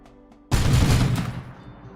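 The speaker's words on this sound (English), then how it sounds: "Neck got blasted by turrets, the laser turrets." Laser turrets firing in the Rimdark 40k video game, a sudden loud burst of blasts that swells and then fades over about a second.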